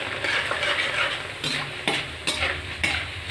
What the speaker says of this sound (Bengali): ওই তেলে এবার আমি চিড়েটা ভেজে নেব